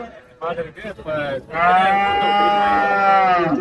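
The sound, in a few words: cattle mooing at Manapparai cattle market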